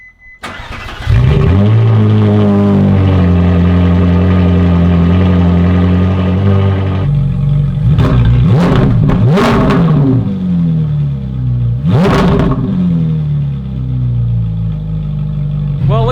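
A Ferrari 458 V8 with an S-Line exhaust fires up and settles into a loud, steady idle, then is revved hard several times to about 4,000 RPM in quick sharp blips with a throaty exhaust roar.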